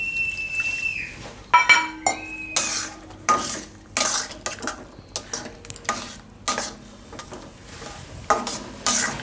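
A semolina and milk mixture for suji besan halwa stirred in a pan, a series of wet scraping and clinking spoon strokes against metal coming in irregular bursts, close and with no voices.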